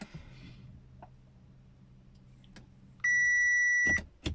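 Dashboard chime of a car with a recurring MAP sensor fault, heard as one steady electronic beep lasting about a second right after the ignition is switched on, loud and close in a quiet cabin, followed by a short click.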